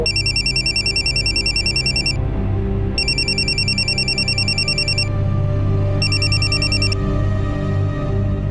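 A mobile phone rings loud and steady, called from a PCO booth, with three bursts of an electronic ringtone separated by short gaps over a constant low hum.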